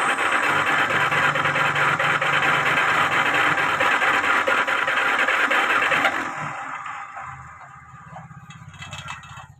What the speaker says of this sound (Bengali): দেখতে পাচ্ছেন মোটরটা চলছে, তো একদম হড়মড় হড়মড় করে শব্দ হচ্ছে।